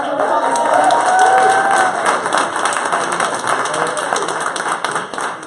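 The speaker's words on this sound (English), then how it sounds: "we're going to give ourselves a big round of applause" A crowd at a people's hearing on housing justice breaks into loud applause mixed with cheers and whoops, a thick burst of clapping that peaks early and then thins slightly while voices call out over it.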